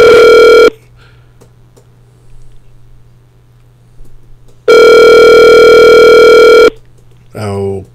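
Outgoing telephone call ringing unanswered, two long loud electronic ring tones separated by a quiet gap of several seconds, with a brief warbling tone at the end.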